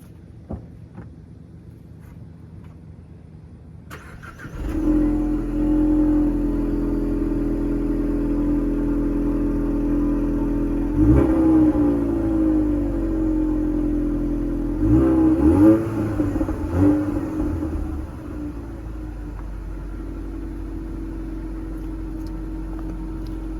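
A stock, bone-stock Ford Mustang engine idles, then revs repeatedly in a subdued, smooth whir, each rise and fall fairly quiet and steady over a constant low drone, with no talk.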